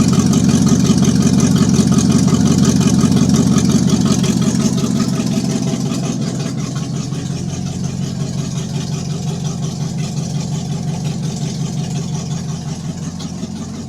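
A Chevrolet C10 truck engine runs steadily with no exhaust system fitted, a loud, continuous low rumble that holds throughout and eases slightly in level partway through.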